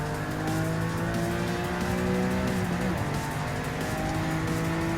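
Race cars in Gran Turismo 7 during a European Championship race, including a BMW M3 and a Mercedes-AMG A45, with engines droning and revving steadily up close, shifting pitch, and tires squealing, with no talk.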